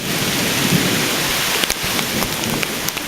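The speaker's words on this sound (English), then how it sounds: "Ah, there's lightning." Heavy outdoor thunderstorm with steady loud rain and sharp crackling thunder bursts toward the end, heard from a porch; no speech.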